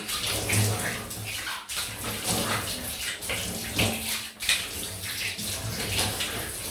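Running tap water splashing as a safety razor is rinsed, a steady close gurgle and spatter with shifting bursts as the blade moves through the stream.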